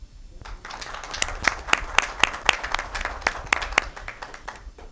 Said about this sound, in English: we'd like one last round of applause